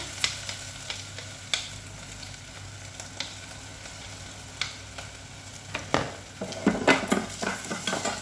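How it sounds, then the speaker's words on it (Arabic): Washed rice sautéed in oil in a pan: a low steady sizzle with sparse spoon taps, building to denser scraping and stirring near the end, no speech. "غنشحرو شويه في داك الزيت."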